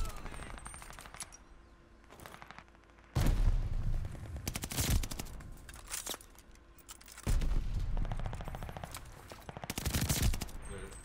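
Assault rifle fire in Call of Duty Vanguard, with two long sustained automatic bursts of rapid shots plus a few shorter rattles, loud and close amid game sounds.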